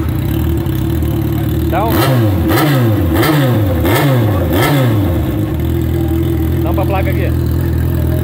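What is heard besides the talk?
motorcycle engine revving through holed exhaust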